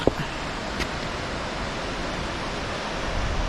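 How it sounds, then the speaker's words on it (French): A waterfall in a mountain valley near Lac de Gaube roars as a steady, broad rushing wash of water, continuous and fairly close, with no talking over it. "On a une belle cascade là."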